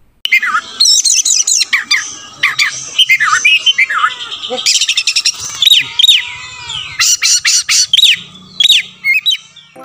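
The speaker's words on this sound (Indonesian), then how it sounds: "Ini burung kacer ini akan saya paksa supaya dia nggak takut mobil dengan cepat." Magpie robin (kacer) singing loudly and close, a string of sharp whistles, squawky calls and rapid chirps in bursts separated by short pauses, with no other sounds around it.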